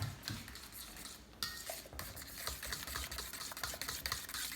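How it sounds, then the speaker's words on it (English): A utensil stirs banana bread batter made with vegetable oil in a bowl, producing a steady, close scraping and clinking that runs continuously for a few seconds with no voices. "I'm gonna go ahead and just give that a little stir."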